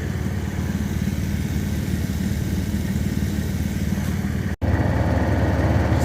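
Small engine-driven pump drawing maple sap outdoors in fresh snow, running as a steady, loud, even drone with a low pulsing throb throughout and one momentary cut-out near the end.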